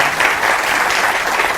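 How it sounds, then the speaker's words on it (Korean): An audience at a broadcast talk program breaks into steady, dense applause, a full wash of many hands clapping close by without pause. "좋은 말씀 해주신 우리 스포츠 마케터 이순호 씨에게 큰 박수 부탁드립니다"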